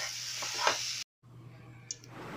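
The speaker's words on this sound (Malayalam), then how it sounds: "നമുക്ക് ഈ ബനാന നന്നായിട്ട് ഒന്ന് വാട്ടിയെടുക്കാം." Banana pieces sautéing in a pan, a soft steady sizzle with a few stirring scrapes, broken by a brief silent gap before the sizzling resumes.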